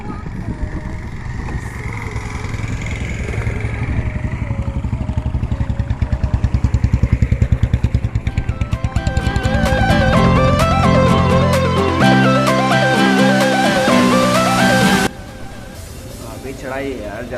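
A motorcycle engine climbs a hill road, with a steady, throbbing drone and wind rumble heard up close; a voice talks over it at times, and music takes over later.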